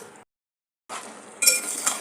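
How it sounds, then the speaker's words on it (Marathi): Mutton is stirred in a pan while cooking for a curry, giving a steady hiss with metallic clinks and scrapes of a utensil. It breaks off briefly, then returns louder, close by. "त्याला चांगलं आपण पाणी सुटेपर्यंत परतून घेऊया."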